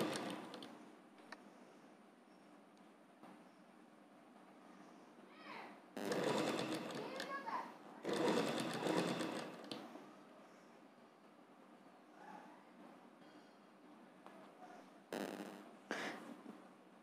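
A sewing machine stitches a petticoat skirt piece to the bodice in three short runs of fast, rattling whirring, with quieter room sound and a voice between the bursts.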